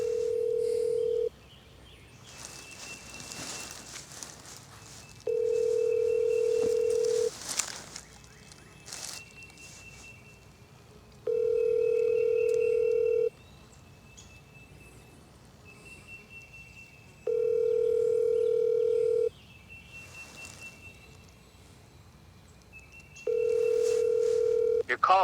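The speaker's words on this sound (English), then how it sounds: "I'm gonna call Doug." A phone call rings out on the line with a repeating ringback tone, steady evenly spaced beeps recurring about every six seconds over quiet outdoor background during a spring turkey and morel hunt.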